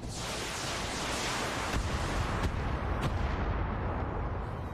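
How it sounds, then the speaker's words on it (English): Missiles striking a Black Knight mech in the video game BattleTech, a dense continuous roar of explosions and impacts with a few sharper cracks and no voices. "Please stop shooting my Black Knight with missiles."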